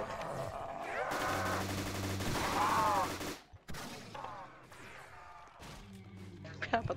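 Pistol fire against a horde of zombies in the Roblox game Project Lazarus, a rapid stream of shots with crashing impacts over game music, a brief pause, then more scattered shots.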